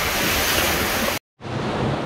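Roaring surf from waves crashing against a dock during a tropical storm in the Philippines, a loud continuous wash mixed with wind buffeting, cut by a brief dropout before the roar resumes.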